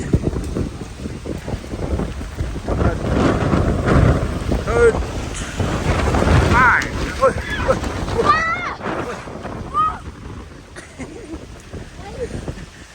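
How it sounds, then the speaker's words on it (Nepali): Strong wind buffets the microphone in loud, gusting roars while people talk and shout nearby. "आज हावा त लाग्दैछ"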